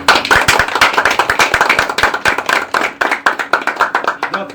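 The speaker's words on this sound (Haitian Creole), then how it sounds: "Un gros applaudissement" Audience at a lycée event in Belle Anse gives a round of applause, many hands clapping in a loud, brisk, fairly rhythmic burst that runs throughout.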